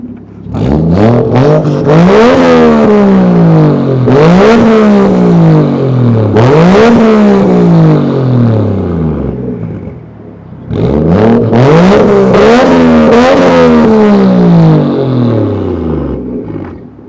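A Toyota Chaser Tourer V (JZX100) engine revs hard three times in quick, rising roars through an aftermarket muffler, pauses briefly, then revs twice more, loud and close with a raspy exhaust note.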